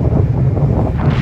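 Strong wind roars and buffets the microphone outdoors in Hokkaido during a Super Cub 90 ride, loud, continuous rumbling gusts with no speech.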